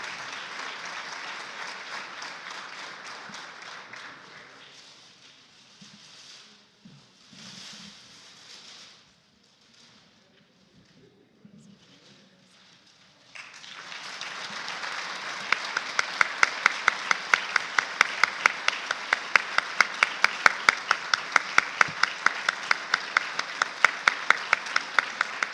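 Warm audience applause at a cooperative movement tribute ceremony, steady clapping that fades to near quiet, then swells back loud and dense with sharp individual claps standing out.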